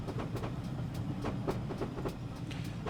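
A Saint Class steam train passes on the Severn Valley Railway, its wheels clicking over rail joints in a steady rhythm over a continuous low rumble, loud and close throughout.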